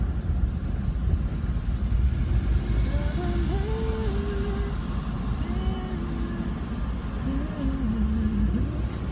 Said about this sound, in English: See the traffic.